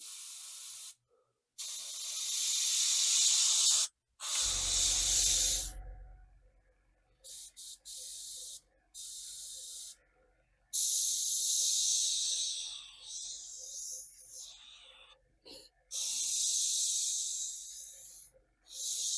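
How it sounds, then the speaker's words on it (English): An airbrush spraying enamel paint, fed by a running air compressor: repeated bursts of steady, bright hiss stop and start in irregular stretches, with a brief low compressor rumble between them and no talk. "I'll just give the compressor a minute to stop."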